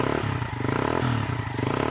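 A Honda XR150L single-cylinder motorcycle fitted with a Yoshimura RS2 slip-on exhaust and spark arrestor thumps steadily at close range, its rapid even pulses loud and continuous throughout.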